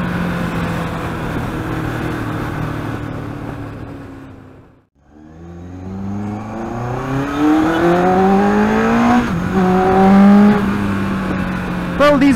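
A motorcycle engine drones and rises in pitch as the bike accelerates through the gears on a road, loud and close, with a brief dip near the middle before climbing again.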